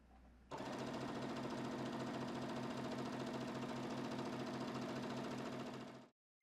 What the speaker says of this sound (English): Now when I get 1/2 inch from this edge, I'm going to leave the needle down like this, raise my foot.